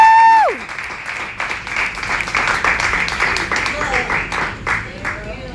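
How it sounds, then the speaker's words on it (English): Audience applause at a talk on living missionally as an entrepreneur, steady clapping from a crowd that follows a sliding tone and continues for several seconds, with voices faintly mixed in. "Give Jennifer another round of applause."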